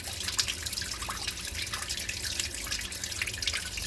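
Water leaking and dripping into a clogged kitchen sink at home, a steady wet trickle with scattered drips, close and fairly quiet, no voices.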